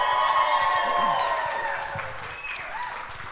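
Audience applause and cheering at a Green Bay Packers clubhouse event, a dense, steady wash of clapping from a sizeable crowd with some whoops, gradually tapering off toward the end.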